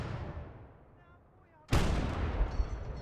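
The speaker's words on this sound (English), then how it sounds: "That mortar has been defending all of Finland, dude." A mortar fires in a WWII real-time strategy game set in Finland: one sudden, loud, broadband blast that stays full and rumbling to the end, following a stretch of quieter low battlefield rumble.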